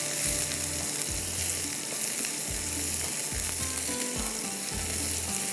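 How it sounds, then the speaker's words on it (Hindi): Garlic and onion fry in a pan for vegetable fried rice, giving a constant close sizzle with rhythmic low scraping strokes of a spatula about once a second, and no talk. "साथ साथ में गार्लिक फ्राई हो रहा है, साथ में हमारा जो अनियन है वो फ्राई हो रहा है।"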